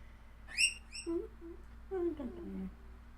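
Pet bird Cece gives high chirps and whistles, followed by lower warbling squeaks, faint in a quiet room with a low hum.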